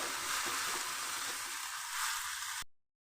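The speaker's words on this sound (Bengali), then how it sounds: "প্রথমে আমি চিংড়ি মাছ লাল করে ভেজে নিচ্ছি তেলে দিয়ে।" Prawns frying hard in hot mustard oil, a dense, steady sizzle and crackle that runs close and loud for a few seconds, then cuts off abruptly.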